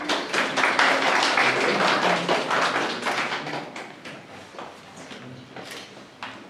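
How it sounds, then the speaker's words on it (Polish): Applause from an audience at a library awards ceremony for a children's reading contest, dense clapping that starts strong and gradually thins out, close and lively, with no talking. "Wielkie brawa."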